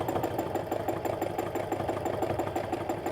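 Sewing machine running fast and even during free motion quilting, a steady rapid needle chatter with a continuous motor hum, close and moderately loud, no talking.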